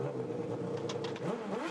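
A GP3 single-seater race car's engine at the Nürburgring rises and revs as it passes, a brief mid-pitched roar heard from some distance.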